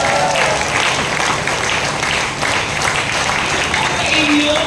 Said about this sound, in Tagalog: Grabe po ang palakpak nyo sa Panginoon.